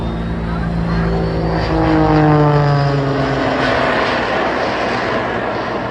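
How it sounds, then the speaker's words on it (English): A modified XS aircraft with a propeller engine at the Blackpool airshow drones loudly and steadily as it passes, its engine pitch sliding downward as it goes by, with no talk. "So over the last 4 years we've developed an aircraft that is completely and totally unique for you people here today."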